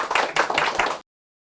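A lecture audience claps to welcome a speaker giving a talk on labor issues, a short burst of close, dense clapping that stops abruptly after about a second.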